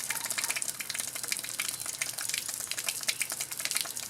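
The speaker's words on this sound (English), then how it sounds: "Now let's turn the water on, see if it comes through." Water gushes steadily through a garden hose just after the tap is opened, giving a continuous hissing rush at moderate level with no pauses.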